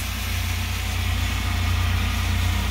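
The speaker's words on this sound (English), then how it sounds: "Ayan yung tractor." A farm tractor gathering hay for baling runs at a steady low rumble, its engine droning continuously and fairly close with no break.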